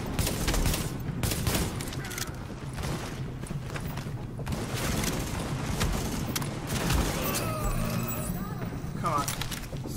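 Sustained gunfire crackles through a firefight at a power plant in The Division on PS4, a dense layered fusillade with occasional heavier booms, while a player talks over the action.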